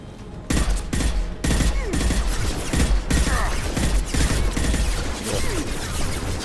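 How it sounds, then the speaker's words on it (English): Mercenaries unload sustained gunfire in Mass Effect 2, a dense, loud fusillade of rapid overlapping shots and bursts running nearly nonstop through the whole stretch, with brief mechanical clanks mixed in. "And they're all firing at the same place."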